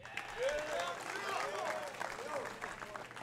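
Audience applause at a military academy commencement ceremony, a steady wash of clapping from a large crowd that swells early and holds throughout, with faint voices and a few cheers mixed in.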